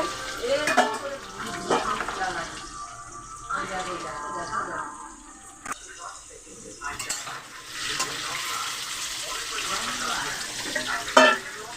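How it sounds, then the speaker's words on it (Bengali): Potatoes fry in a pan with a bubbling sizzle, punctuated by stirring, scraping and clinking of utensils against the cookware, while a person talks over the cooking at times. "এই যে আলুটা ভাজা হচ্ছে।"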